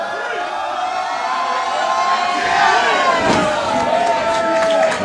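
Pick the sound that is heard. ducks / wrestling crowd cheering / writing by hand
wrestling crowd cheering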